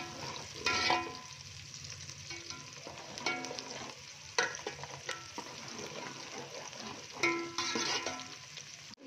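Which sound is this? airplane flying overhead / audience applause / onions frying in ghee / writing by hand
onions frying in ghee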